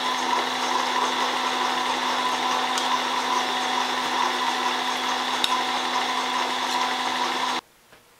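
A machining cut sweeps fully around a part, a steady, moderately loud tonal whir with faint clicks that runs continuously for about seven seconds, then stops abruptly into near silence.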